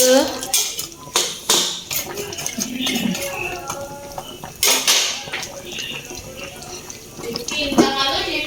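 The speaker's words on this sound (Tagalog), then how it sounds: "Ilagay natin itong ating string beans. Siyempre, ihalo natin para maluto." Spoon clattering and scraping in a metal cooking pot as string beans are stirred into simmering chicken, with sharp clanks, rattles and a splash of water, close and fairly loud; a voice speaks in Tagalog between.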